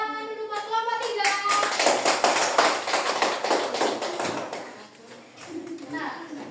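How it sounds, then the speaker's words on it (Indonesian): A classroom of schoolchildren claps together for a student group after their presentation, a dense, continuous patter of many hands close by that fades out toward the end, with a voice briefly audible. "silakan tepuk tangan dulu buat kelompok 3"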